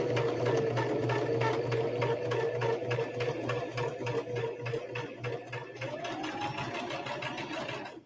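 Sewing machine stitching quilt block seams, a close, steady rhythmic chugging of needle strokes over a motor hum, continuous before a short pause near the end.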